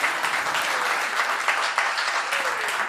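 Applause fills a town council meeting chamber, a steady, dense patter of many hands clapping throughout, fairly close and continuous with no talk over it.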